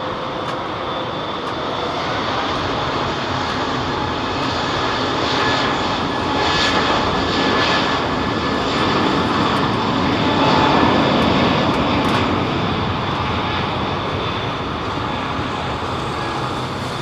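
An airliner with Rolls-Royce RB211 engines roars through its takeoff run at London Heathrow, a loud, sustained, close-up jet rumble that swells slightly midway and holds steady, with no voices.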